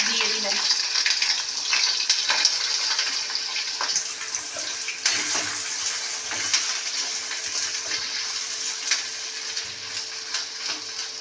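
Whole prawns with heads and shells frying in a pan, a loud continuous crackling sizzle with scattered pops and stirring, and a faint voice at times.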